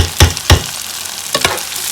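Sliced green tomatoes frying in oil in a pan, a steady close sizzle with a few louder bursts of crackle as pieces are turned, no talk.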